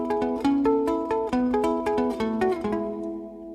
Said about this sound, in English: I'm weaving this piece of cardboard between the strings of my guitar